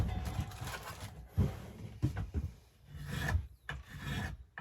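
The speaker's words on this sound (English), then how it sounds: "take a card scraper to it and clean it all up with a card scraper" A steel card scraper rasps along a wooden axe handle in repeated strokes, each scrape a dry rough rub with brief pauses between, close and fairly quiet, with no voices.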